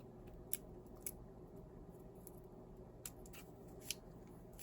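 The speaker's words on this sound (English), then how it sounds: "You can take your scissors" Several sharp, quiet snips of scissors cutting paper, spaced irregularly over a low steady background hum.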